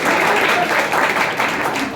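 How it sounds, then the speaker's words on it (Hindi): Loud, close audience applause at a prize distribution for 2023 toppers, a brief dense burst of many hands clapping at once. "एक बार और तालियां"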